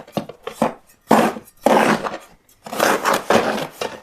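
Filler mortar being stirred in a plastic mixing trough for patching a channel cut in concrete, giving loud, close scraping and churning strokes in uneven bursts with short pauses between them.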